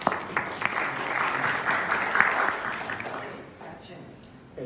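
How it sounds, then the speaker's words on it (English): Conference audience at a fintech event in Seoul breaks into applause, a dense wash of many hands clapping that swells, holds for a few seconds and then fades away, with a voice talking over it. "Round of applause."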